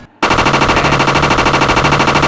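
Video game gunfire suddenly starts rattling as a loud, rapid, continuous automatic burst that keeps a steady rhythm.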